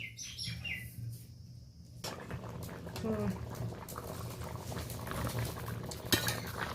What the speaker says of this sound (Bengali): এবার তরকারিটা ফুটুক, একটু পরেই আবার আসছি।